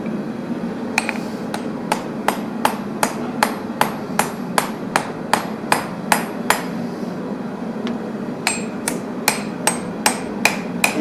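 Steady rhythmic hammer blows on hot metal at a forge, sharp ringing strikes repeating about twice a second, with a brief pause before the pounding resumes, loud and close.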